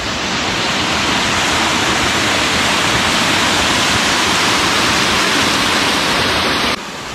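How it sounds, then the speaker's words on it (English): Small waterfall in North Tasmania, a loud continuous rush of falling water heard close up, holding steady throughout before dropping slightly at the very end. "So we've just made it to the first waterfall."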